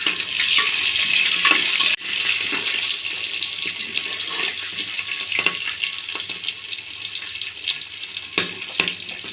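Green chillies and curry leaves sauté in a cooking pot, giving a continuous hissing sizzle up close with occasional clinks and stirring scrapes throughout.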